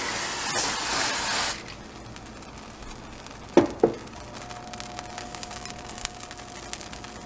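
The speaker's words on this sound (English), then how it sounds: "spray again with the cooking spray" A steady burst of cooking spray hisses into a pan for about a second and a half, followed by a couple of knocks and a quiet hum.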